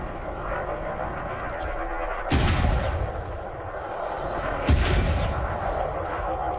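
Overcharged grade 5 cannons fire in the space game Elite Dangerous. There are two heavy booming blasts a couple of seconds apart, each trailing off into a low rumble over a constant engine hum.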